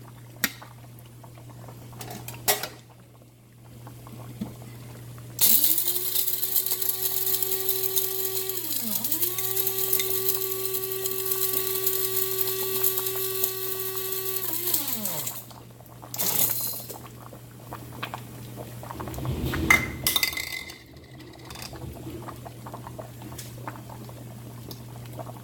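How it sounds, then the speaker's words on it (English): Dry spices including whole pimento whirr in an electric grinder for about ten seconds, a steady high motor whine with a short dip midway, framed by quieter handling noises before and after. "I'm gonna grind up my dry spices now."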